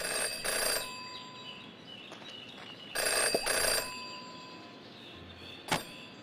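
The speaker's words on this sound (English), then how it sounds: "Jenny had learned never to ignore a ringing phone" An electronic phone ring from the video game Jenny LeClue: Detectivu sounds in two bright bursts a couple of seconds apart, with a quieter hum and a sharp click between them.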